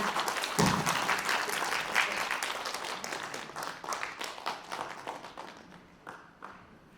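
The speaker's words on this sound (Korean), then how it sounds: "강연회를 마련해준 이사장님을 뜨거운 박수로 환영해 주시길 바랍니다" Warm applause from an audience at a Korean anti-corruption award ceremony and lecture, welcoming the foundation chairman back onto the stage; dense clapping fills the room, then thins into scattered claps toward the end.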